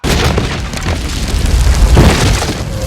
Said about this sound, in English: is there such a thing as take cover during an artillery strike?